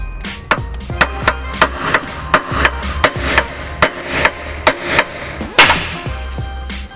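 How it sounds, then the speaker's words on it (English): A hammer strikes a chisel against a rusted bolt head on a weld nut again and again in a steady rhythm, loud, sharp ringing blows close up. "I should be able just to use this chisel and a hammer to remove the rest of this"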